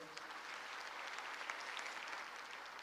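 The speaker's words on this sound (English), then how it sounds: "applause." An audience applauds at an induction ceremony for newly qualified medical and dental practitioners, a steady, fairly distant patter of many hands clapping throughout.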